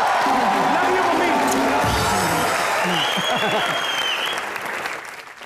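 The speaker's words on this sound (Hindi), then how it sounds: "मेरी माँ के लिए एक बार जोरदार तालियां।" Studio audience on a Hindi comedy talk show bursts into loud, sustained applause with some cheering, a continuous dense clapping wash that tapers slightly at the end, with faint voices mixed in.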